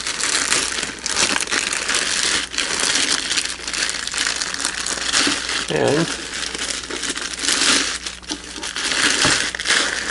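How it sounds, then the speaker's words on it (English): Crinkly plastic packaging rustles and crumples steadily as the bag around a UNI-T UT8805E bench multimeter is pulled open close by, with a brief word spoken. "Let's also open the plastic bag here."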